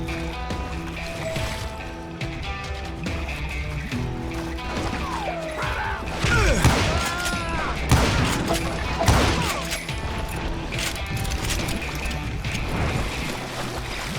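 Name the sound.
gunshots in the video game Call of Juarez: Gunslinger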